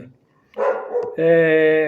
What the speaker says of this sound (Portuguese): Ravel, meu cachorro,